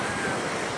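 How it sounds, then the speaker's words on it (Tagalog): Sea waves washing the shore at a beach resort in Guis Guis, Sariaya, Quezon, a steady broad surf roar with wind buffeting the microphone, with no one speaking. "Ito ang dagat!"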